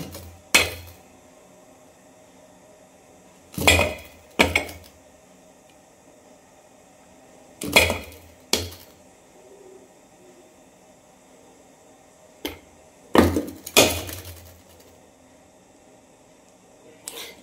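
Idli plates and pots clatter and clank in a home kitchen as they are stacked into a cooker, with a few sharp bursts of metal rattling separated by quiet pauses.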